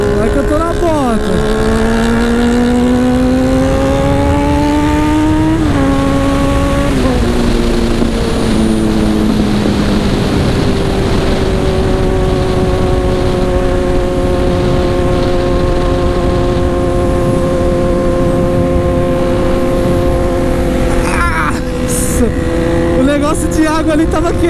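Kawasaki Z1000 motorcycle ridden at full throttle, engine pitch repeatedly climbing and dropping through gear changes, loud and close with heavy wind roar, another bike's engine audible at times.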